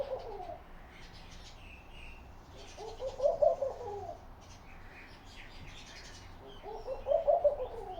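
A dove calls indoors inside a house, its soft cooing phrases repeating twice at moderate distance against a quiet room background.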